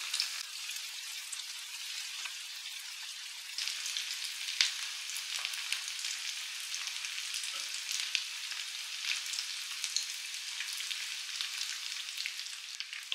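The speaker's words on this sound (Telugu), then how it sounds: "గ్యాస్ మీడియం ఫ్లేమ్లోనే వీటిని ఫ్రై చేసుకోండి." Chicken pieces for a crispy Lay's chicken fry in oil on a gas stove over a medium flame, a soft, continuous crackling sizzle with fine spitting pops, fairly faint and steady with no voices.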